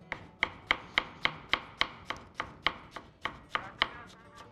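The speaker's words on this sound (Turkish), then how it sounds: "şimdi soğanımı minik minik doğramaya devam" A knife finely chops an onion rapidly and evenly on a board, about a dozen crisp, close strikes in a steady rhythm with no talking.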